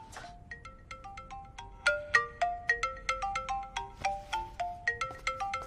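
A phone ringtone plays a bright, bell-like electronic melody of quick plucked notes, starting softly and then ringing out clearly and steadily.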